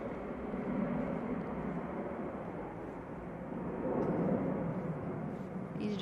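An EasyJet airliner at Manchester Airport produces a steady, distant engine roar that swells slightly partway through, heard alone without talk.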